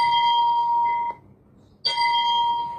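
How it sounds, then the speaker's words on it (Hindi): Temple bells ring in two clear, sustained strikes separated by a short pause, each a bright ringing tone that hums on until it cuts off, fairly loud with no voices. "इन 3 मंदिरों के घंटी की आवाज भी हम सुन सकते हैं।"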